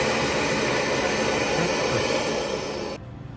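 A dental lab handpiece grinds a wax-up for a full-mouth implant framework, a steady high whirring hiss held for about three seconds before cutting off abruptly.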